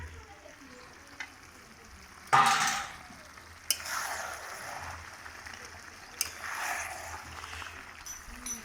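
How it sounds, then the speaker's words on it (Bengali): Chicken curry with potatoes stir-fried in oil in a pan, a low steady sizzle broken by a few sharp scrapes and stirs of a spatula, quiet and close. "মাংসগুলো কষানো হয়ে এসছে, এবারে আমি আলুগুলো দিয়ে আরো 2-3 মিনিটের মতো"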